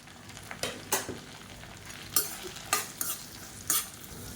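Chopped onion frying in a pan for chutney, stirred with a utensil: a steady sizzle under repeated scraping strokes that come in uneven bursts, close up, with no voices.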